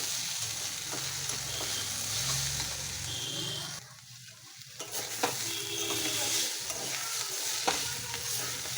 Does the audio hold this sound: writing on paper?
no